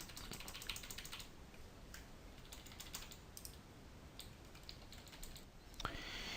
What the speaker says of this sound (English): And I can use the keyboard as well.